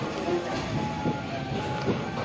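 Intercity train leaving Vijayawada station, a steady low rumble of the moving carriages heard from inside, with faint periodic rail knocks and a few soft voices in the background.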